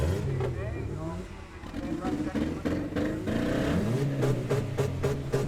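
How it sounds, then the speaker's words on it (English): Car engines roar and rumble in a demolition derby arena, a steady drone with shifting revs and a rising pitch near the end, set under an announcer's commentary. "As you can hear the roar and the sound of the engines, things are about to get exciting"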